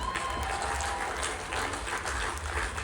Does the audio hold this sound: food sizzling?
no